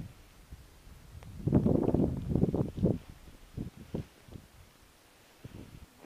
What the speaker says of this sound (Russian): Ветер на рыбалке, ведь это самое дерьмовое.